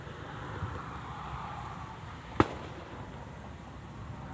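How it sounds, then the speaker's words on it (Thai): A single firecracker set off near a railside canal to scare birds away cracks once as a sharp, fairly close bang, standing out briefly over steady outdoor background noise. "สียงเพิ่นจุดประทัดไล่นก"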